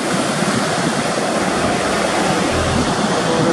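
Ocean waves break steadily at a surf point with the wind blocked by mountains, a continuous loud wash of surf filling the whole stretch without pause.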